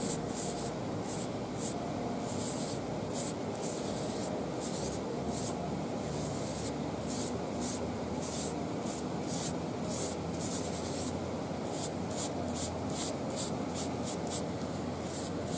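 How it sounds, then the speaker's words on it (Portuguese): Silicone sealant being spread along the stitched seam of a tent, a steady close scraping and rubbing texture with rhythmic strokes running continuously, no talking. "E a gente simplesmente vai passar o silicone aqui dentro, aqui na costura, cobrindo as duas linhas."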